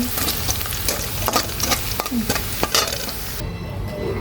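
Cumin seeds hissing and sizzling in hot oil as a tempering for dal, a close, steady crackling fry with a spoon stirring and clinking against the pan.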